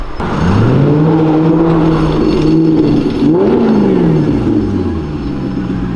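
A 600 hp turbocharged Honda Civic Si engine revs loudly and close, its tone climbing and falling in several sweeping pulls with a steady, droning roar throughout.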